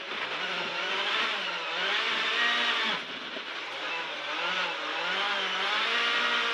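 A rally car accelerates hard on gravel, its engine note climbing and dropping through gear changes in repeated sweeping revs, loud and steady with a gritty wash of tyre and stone noise.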